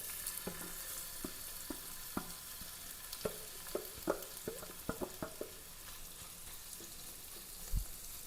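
Marinated fish, rubbed with pepper, turmeric, chili powder and salt, frying in a pan: a faint, soft sizzle broken by scattered sharp pops and crackles, with no talking.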